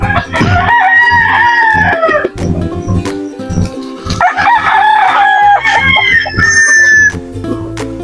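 Native chickens clucking around a rooster that crows loudly twice, close and clear, with scattered soft clucks and knocks between the crows.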